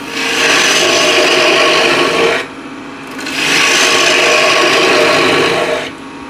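A bowl gouge cuts into a spinning wooden bowl on a lathe, a loud, hissing scrape in two long passes separated by a brief quieter gap.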